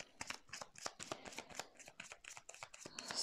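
Tarot cards handled and laid down one after another, close crisp slaps and slides of card stock in a quick, steady rhythm with no talking.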